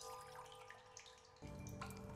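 Water runs from a tap into bottles in the survival video game The Solus Project, a steady rushing flow that turns noticeably louder and fuller partway through, heard alone with no talking.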